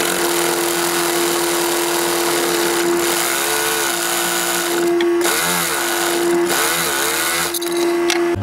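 A sewing machine runs continuously while stitching piping cord onto the edge banding of a footstool seat pad, giving a loud, steady mechanical whir with a sharp tone and brief changes in pace.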